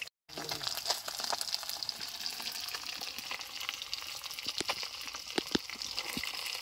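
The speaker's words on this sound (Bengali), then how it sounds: "তাই দে মা, আমি একটু তোরে ভাজে দিই মাছটি" Fresh river-caught fish fry in oil in a pan at a village cookout, with a dense, steady sizzle and crackle, sharp spitting pops and occasional stirring clinks close to the pan, and no talking.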